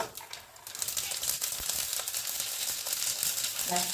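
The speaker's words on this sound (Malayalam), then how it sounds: "നമ്മുടെ സാമ്പാർ റെഡി ആയിട്ട് നമുക്ക് ഇതിലേക്ക് കടുക് വറുത്തിടാം." Mustard seeds spluttering in hot oil for a sambar tempering, a fairly quiet, dense crackle of small pops over a steady hiss throughout.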